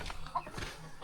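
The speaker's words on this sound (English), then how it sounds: "I'm just down with the mad chickens running around everywhere" Chickens clucking briefly around a backyard chicken house, a few short close calls over faint background noise with no talk.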